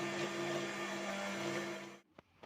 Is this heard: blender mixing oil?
yes